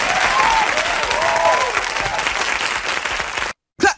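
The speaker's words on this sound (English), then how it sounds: "Clap your hands, everybody," Loud, dense audience applause at a hip-hop performance, a crowd clapping steadily and close for several seconds before it cuts off abruptly.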